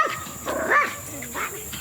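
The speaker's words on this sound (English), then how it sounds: "She'll quit barking." A granddog barks once or twice, with a short harmonic yelp near the middle, mixed in with nearby conversation.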